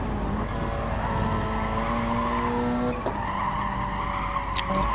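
A Porsche race car in a racing video game laps a track at speed, with a steady, loud engine drone, a gear shift near the middle and tire noise throughout.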